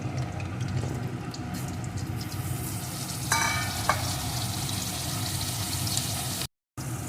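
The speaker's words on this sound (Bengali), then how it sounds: "আলুটাকে একটু ভেজে নেব" Potato and eggplant pieces frying in a pan give a steady close sizzle with occasional stirring scrapes and a brief clink, then a moment of silence near the end.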